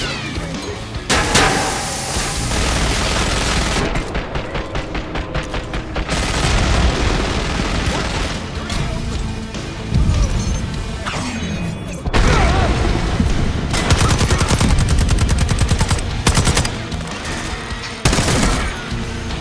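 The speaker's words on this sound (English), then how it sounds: "Watch the minigun." A minigun in the Call of Duty Black Ops 6 campaign fires long, loud, continuous bursts mixed with booms and crashing impacts, with a few short pauses between volleys.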